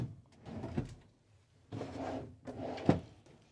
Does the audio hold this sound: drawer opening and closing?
yes